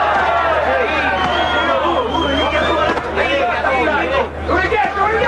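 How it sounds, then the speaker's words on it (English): A capacity crowd at a boxing match in an arena in Saint-Tropez keeps up a steady, fairly loud murmur of many overlapping voices, a constant babble of chatter with no single shout standing out. "They are not the noisiest crowd you've ever heard."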